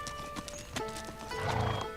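Horse hooves clip-clopping at a steady trot while the animal is ridden, with a whinny, close and fairly loud, set in an outdoor scene from a Chinese historical drama.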